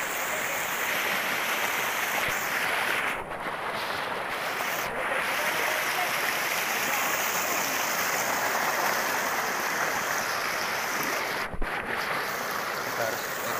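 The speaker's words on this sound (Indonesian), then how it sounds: "The current is so strong." Strong river current rushes past at a natural bathing spot, producing a loud, steady broadband wash of flowing water mixed with wind buffeting the microphone, with a few brief gaps.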